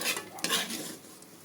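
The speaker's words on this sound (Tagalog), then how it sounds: "Para igisa po yung kamatis, bawang at sibuyas." Tomato, garlic and onion sautéing in a pan, a steady hissing sizzle with the scrape of a utensil stirring through it, close and fairly loud, no voices.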